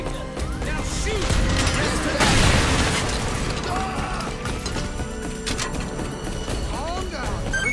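Gunfire and explosive booms in Earth Defence Force 6, a dense burst of shots and blasts peaking mid-clip over a constant loud battle din, with game voices and effects mixed in.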